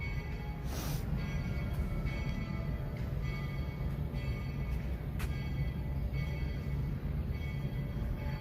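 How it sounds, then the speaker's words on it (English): A Walt Disney World monorail at Magic Kingdom pulls into the station with a steady, broad rolling rumble and a few brief higher bursts, heard from nearby with no talking. "Monorail Black is pulling into the station."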